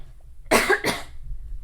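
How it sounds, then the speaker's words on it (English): Two quick, close coughs in a row from a single person, then quiet. "Cut out that little cough later."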